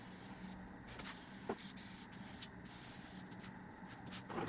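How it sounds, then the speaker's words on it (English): Gorilla heavy-duty spray adhesive is sprayed along the side of a TR250 seat being fitted with leather covers. It makes a steady, faint aerosol hiss with brief pauses and is heard alone. "So I'm gonna spray just here at the side."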